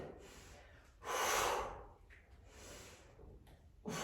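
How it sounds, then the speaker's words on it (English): Deep breaths during a resistance band workout come up close and faint: a long breathy exhale, then softer breathing and a sharp intake at the end. "I always like to try to synchronise my breath, or try to, that I'm breathing out there and breathing in"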